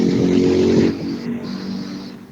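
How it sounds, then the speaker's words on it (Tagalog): Steady rumble of nearby road traffic, cars and motorcycles droning loudly with a swell at the start as vehicles pass, then a lower continuous hum. "Maingay po yung sasakyan, mga motor."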